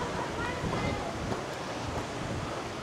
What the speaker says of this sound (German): Aber es ist sehr, sehr windig hier heute.